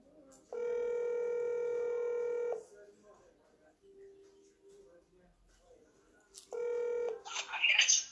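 A telephone dials out a call, with two bursts of steady tonal DTMF dialing tones separated by a quiet pause, followed by a brief noisy rustle at the end.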